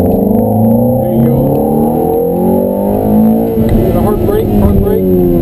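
A Ferrari F430 on a track accelerates with a loud, sustained engine note rising in pitch, then shifting partway through and climbing again, heard from inside the car under an instructor's talking.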